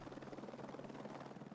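A race-organisation helicopter flies past, a faint steady rotor drone that hums evenly for a moment with no talk.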